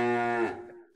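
A cow gives one long, loud, close moo that holds steady and then trails off, with no talking over it.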